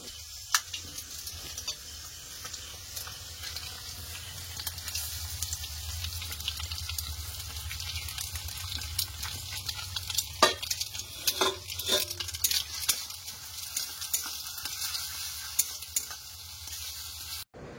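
Steady sizzling and crackling of eggs and potatoes frying together in a pan, with occasional scrapes and stirring clatter of a utensil, fairly close and continuous.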